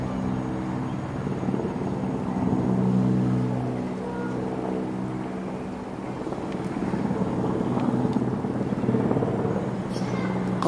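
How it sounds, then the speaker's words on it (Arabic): Military aircraft passing over the Barzeh district of Damascus during a heavy security presence in July 2012; a continuous, steady low droning rumble that persists at even loudness throughout, with no voices. "تواجد طيران بأمن"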